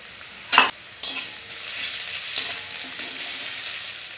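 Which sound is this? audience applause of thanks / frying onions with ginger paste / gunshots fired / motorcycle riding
frying onions with ginger paste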